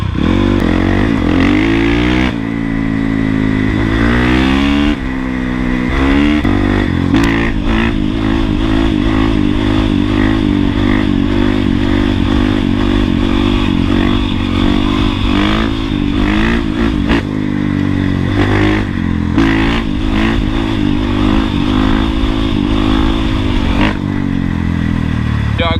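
A Honda CRF450R with an FMF Factory 4.1 exhaust revs hard and close, rising and falling through repeated throttle blips and steady high-revving passes for most of the stretch, with brief dips between pulls.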